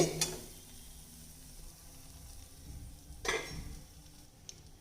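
Appam frying in oil in a pan, a low, quiet sizzle with a couple of sharp scraping clinks of a utensil against the pan near the start and again a few seconds later, close, with no talk.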